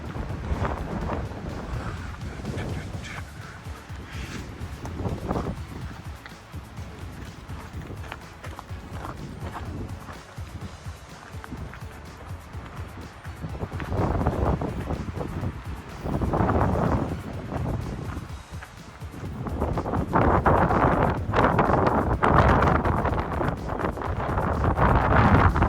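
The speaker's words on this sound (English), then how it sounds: "So windy." Strong gusts buffet the microphone on the rocky summit of Tunnel Mountain in Banff. Loud roaring rumbles swell and fade unevenly, with footsteps and faint bits of talk underneath.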